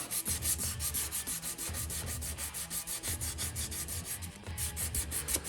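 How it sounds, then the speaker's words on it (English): Sandpaper rubs over the finish of an Epiphone Elitist Les Paul guitar body under repair, a steady close scratchy back-and-forth rasp repeating in quick even strokes with no talk. "So now I'm gonna take my sandpaper. I'm gonna go over all that again."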